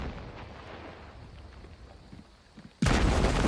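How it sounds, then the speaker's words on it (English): Dynamite in a video game goes off with a sudden, loud booming blast near the end, following a stretch of quiet low rumbling and scattered faint thuds. "They hear these two explosions."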